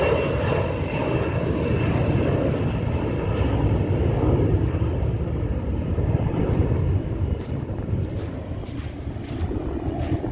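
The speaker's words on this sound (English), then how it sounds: "This is the DHL plane now flying up." A DHL cargo plane climbs away after takeoff from Grantley Adams International Airport in Barbados, its engines a loud, steady roar across the whole stretch, with outdoor wind noise and no voices.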